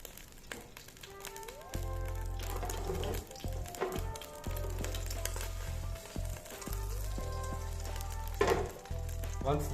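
Hot oil sizzles steadily in a pan over a flame while lasagna fixings are prepared, a close, continuous frying hiss with a low background hum and occasional clinks, no voices.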